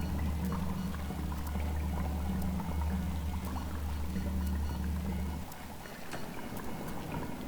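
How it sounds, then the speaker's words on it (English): Draining water in the Albedo: Eyes from Outer Space game gives a steady rushing, pouring flow with a low hum that cuts out partway through, after which a fainter wash continues. "So you see that water dropping."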